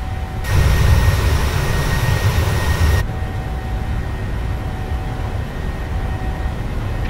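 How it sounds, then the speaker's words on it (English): Jet airliner engines at takeoff thrust in Microsoft Flight Simulator 2020, a loud steady roar and hum that cuts to a lower, quieter rumble partway through. "Takeoff thrust set. Indications normal."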